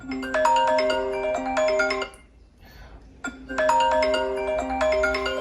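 A loud, bright iPhone ringtone at full volume plays a chiming melody twice with a short pause between, close by and with no talking.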